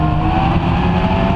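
Classic stock car roaring loudly past on the home straight at Swaffham Raceway, a dense steady engine snarl filling the whole moment with no gap.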